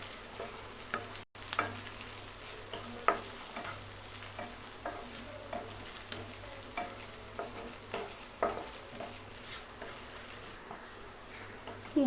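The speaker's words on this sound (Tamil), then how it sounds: "இதெல்லாம் நல்லா எண்ணெய் நல்லா வதக்கிக்கலாம்." Ginger, green chilli and curry leaves sautéing in oil for rava kichadi, with a steady low sizzle and scattered spoon scrapes and taps against the pan, close and moderately quiet.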